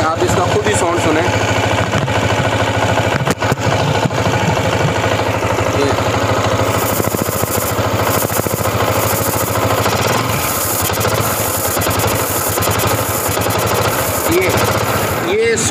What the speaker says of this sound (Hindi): साउंड जो है ये फस की साउंड कर रहा है, मींस कि एयर जो है वो यहाँ से निकल रही है